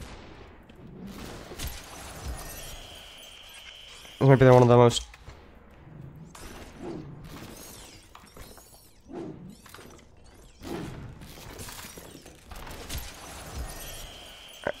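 Glass shattering in the video game SUPERHOT, a single bright burst of breaking panes lasting about a second amid ongoing quiet game sounds and someone talking.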